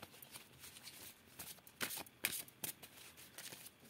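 Oracle cards shuffled for an angel love reading, a soft papery riffle of repeated flicks with a few louder snaps near the end, close and quiet with no talking.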